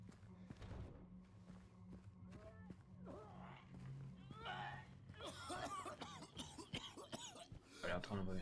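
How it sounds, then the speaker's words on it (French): A man coughs and clears his throat amid a low ambient hum and rustling, with some talking in the background, in the video game Silent Hill 2 Remake. "Un mec qui vient de tousser là."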